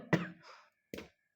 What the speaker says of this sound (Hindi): थोड़ा खांसी आ गई।